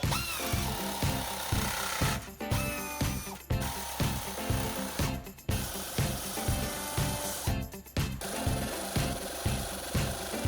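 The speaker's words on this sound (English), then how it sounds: "Forgot I had this air nibbler and works pretty good." An air nibbler chops through the steel flange of a custom slim oil pan for a Toyota 3SGE Beams engine, firing in rapid repetitive punches with a few brief pauses, loud and close.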